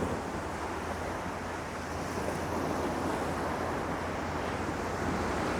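Waves wash steadily onto a beach beside a sacred tomb site, a continuous loud surf roar mixed with wind buffeting the microphone, with no voices.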